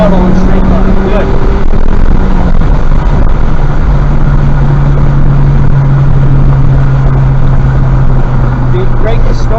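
Loud in-car engine drone from a Honda Civic Type R at full throttle on a straight at a track day, the pitch climbing steadily and the tone holding as speed builds, with an instructor talking over it.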